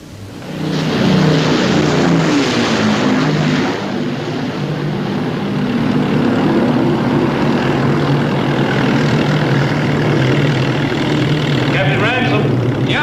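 Propeller-driven RAF aircraft drone steadily overhead at night in a 1957 war film scene, a loud, continuous engine roar with a slow rising pitch sweep early on that holds for the whole stretch.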